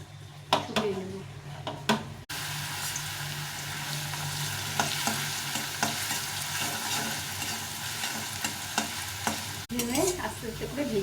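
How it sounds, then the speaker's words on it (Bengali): Finely shredded potatoes fry in hot oil with a steady, dense sizzle that runs through most of the stretch, broken by stirring clatter and brief quieter gaps near the start and end. "আস্তে আস্তে করে ভেজে নিতে হবে আলুটা"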